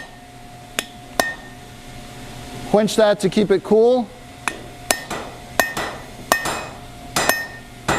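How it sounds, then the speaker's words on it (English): Hammer blows on hot steel against an anvil while forging a blacksmith's hook: sharp, ringing strikes at irregular intervals, close and loud, with a person talking briefly in between. "I can hear it hitting the anvil"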